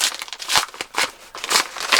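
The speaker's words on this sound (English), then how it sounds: "I'm going to open this now and see what is inside" A parcel sent by post is unwrapped close up, with bursts of crinkling and rustling packaging in irregular rhythm and brief quiet gaps, no talking.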